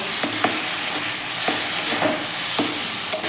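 A spoon stirs a thick mixture of milk, cream, batasha sugar drops and coconut in a pan for a coconut barfi, giving repeated soft scraping strokes over a low steady sizzle. The sound is close and has no talking.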